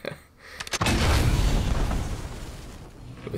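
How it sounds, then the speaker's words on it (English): A pirate cannon fired in the video game Fortnite: a short click and crack, then a big booming blast that rumbles and slowly fades over a few seconds, with no speech. "that was the damage with the pirate cannon in Fortnite"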